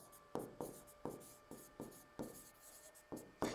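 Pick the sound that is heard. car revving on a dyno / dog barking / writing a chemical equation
writing a chemical equation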